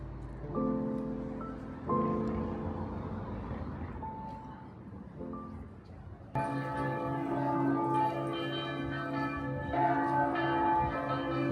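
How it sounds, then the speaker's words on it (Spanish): Church bells of San Petronio peal over Piazza Maggiore in Bologna, beginning with separate resonant strokes and then swelling into a dense, continuous ringing heard from nearby over faint outdoor ambience. "Llegamos a la Piazza Maggiore oyendo cómo repican las campanas de San Petronio."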